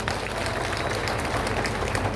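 A crowd applauds for Kimani Ichung'wah at a political gathering in Kiambu, Kenya, with dense, steady clapping that holds at a continuous level for the whole moment.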